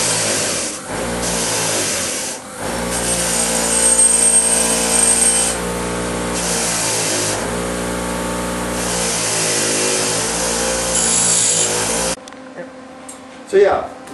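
A wire figure is polished on a motorized buffing wheel, which gives a loud, steady whirring drone with brief dips as the piece is pressed and shifted, then stops abruptly before the end.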